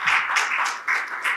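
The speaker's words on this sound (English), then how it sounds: "Why don't we give Dr. Cox one more round of applause?" An audience applauds at the close of a keynote talk in a hall, with steady clapping that swells in several waves across the short stretch and carries no voices.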